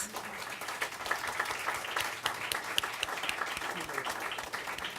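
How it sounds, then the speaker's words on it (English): Conference audience applause, sustained crisp clapping from a large hall crowd with sharp individual claps poking through, steady throughout and tapering slightly at the very end. "So please give them a round of applause."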